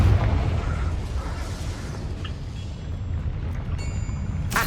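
The Confringo fire spell in the Hogwarts Legacy video game lands as a deep, rumbling explosion that fades into a lingering low roar and crackle. Faint higher game effects sound near the end.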